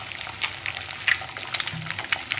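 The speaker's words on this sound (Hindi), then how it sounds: "इतना सुंदर से अंडा पका रहा है" An egg fries in a pan with a steady close sizzle, fine crackles and a few louder pops scattered throughout, no voices.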